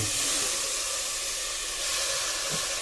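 Tripe (vajri) sizzling steadily in a hot pan, a loud, even hiss that carries on without break from start to finish, with no talking.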